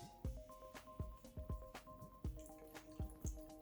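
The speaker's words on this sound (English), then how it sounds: "pour your juice in there." Aloe vera juice poured into a homemade moisturizing hair mask, heard as a run of close, soft wet drips and splashes falling into the mixture in an uneven rhythm, with no talking.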